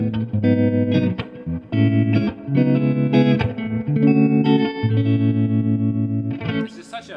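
Electric guitar through a Fender Vintage '65 Deluxe Reverb reissue amp with its reverb and vibrato on, playing sustained mellow chords with a wavering, shimmering tone and reverb tails, loud and alone.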